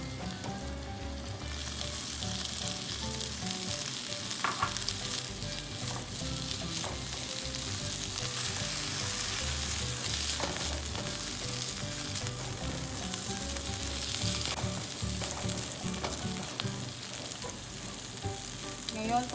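Diced ham fries in a pan for fried rice, giving a loud continuous sizzle that holds steady throughout with small stirring scrapes underneath.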